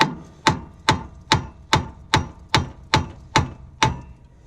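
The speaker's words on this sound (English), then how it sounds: "Give it a couple good whacks and it should pop right out" An old tie rod on an LB7 Duramax truck is struck by a hammer in a steady series of ten sharp, evenly spaced metallic whacks, each ringing briefly, close and loud with no talk.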